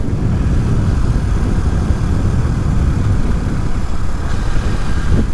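A classic motorcycle engine at a Velocette owners' meet idles a little high, a loud, steady, rumbling tick-over close by with no talking.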